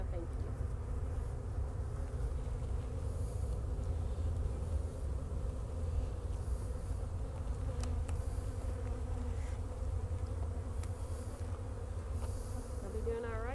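Honey bees buzz around two hives set on a pallet, a constant droning hum with individual bees passing close by, as people talk quietly underneath.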